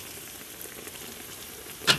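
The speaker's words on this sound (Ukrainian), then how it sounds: "Смажити потрібно так не менше 2-3 хвилин з кожного боку." Belyashi meat pastries fry in oil in a pan with a continuous soft sizzle and crackle, ending in one brief louder spatter.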